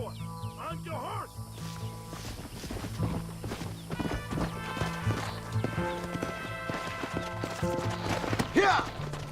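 Horse hooves gallop in a steady clip-clop rhythm in the Red Dead Redemption video game, over game music with brief voices and a whinny early on.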